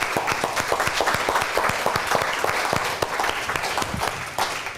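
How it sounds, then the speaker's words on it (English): Audience applause during an AI marketing presentation, dense sharp claps close by forming a loud, continuous rattle that holds strong for several seconds, with no talk over it. "I think that ChatGPT and AI deserves an applause."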